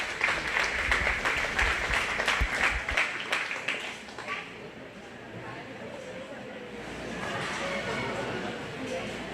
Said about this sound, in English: Go ahead and give both those exhibitors a round of applause